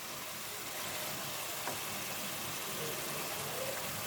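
Raw hilsa fish pieces frying in a spice paste in a pan, giving a steady, even hiss that stays at a constant level throughout.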